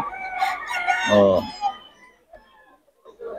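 Chickens cluck and a rooster crows close by at a busy poultry market, with people talking among the birds.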